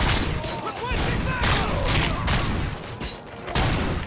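Fully automatic gunfire in RoboCop: Rogue City, with loud, dense bursts of rapid shots running almost continuously, punctuated by heavier booms and impacts, while a player talks over the shooting.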